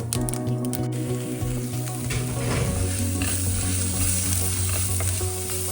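Green chillies, onion, ginger and garlic sauté in a hot pan, a steady loud sizzle with stirring scrapes running throughout and no talking over it.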